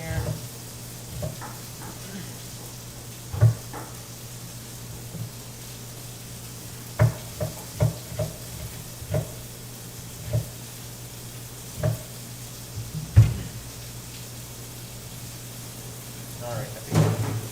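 Beef steak for steak Diane searing in a hot pan, a steady low sizzle running throughout with scattered clanks and knocks of cookware, and a voice talking faintly at times.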